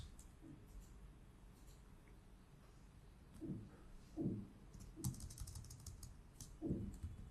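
Soft keystrokes on a computer keyboard come in short bursts and clusters while a command is entered in the vim editor, faint and close, with quiet voice underneath.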